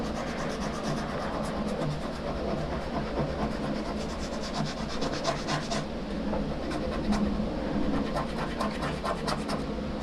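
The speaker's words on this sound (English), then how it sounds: "So I'm scraping, scraping, scraping, and you can see it's starting to transfer onto the block." Graphite scraped steadily onto a rubber block for block printing, a continuous close scratching with rapid rhythmic strokes that runs throughout without pause.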